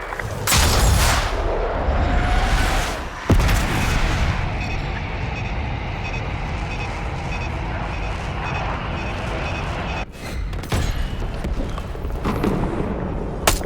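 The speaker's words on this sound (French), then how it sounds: "Bombe larguée." A dropped bomb explodes in Call of Duty Black Ops 6, with heavy booming blasts and sustained rumbling artillery-like fire that stays loud throughout, a sharp crack near the middle and another burst toward the end.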